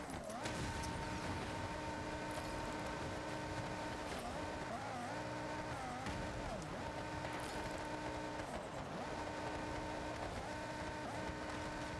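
Mazda Miata driven in Forza Horizon 6, a steady engine drone with shifting harmonic pitches that rise and dip as the car changes speed, continuous and close throughout.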